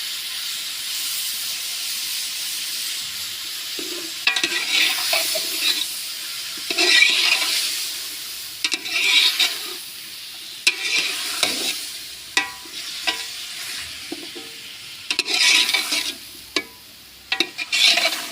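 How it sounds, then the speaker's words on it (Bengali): Eggplant frying in a pan, a bright close sizzle that flares in bursts as it is stirred and scraped, with irregular pauses between the strokes and no speech. "এভাবে এটাকে তোমরা ফ্রাই করে নিতে পারো সুন্দর করে"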